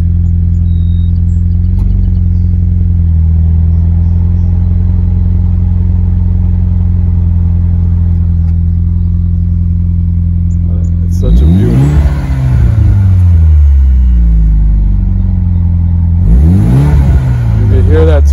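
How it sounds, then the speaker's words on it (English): A 2015 Mitsubishi Lancer Evolution Final Edition engine idles with a steady low drone, then revs up twice with rising turbo spool, the second rev briefer, loud and close. "turbo spool up."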